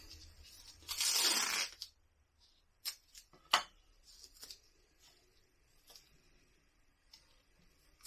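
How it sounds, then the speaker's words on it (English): Adhesive tape ripped loudly off a roll in one long tearing burst, then a few short sharp pulls and snaps as it is pressed on during a leg-skinning taxidermy job, close and quiet otherwise. "So I'll tape again."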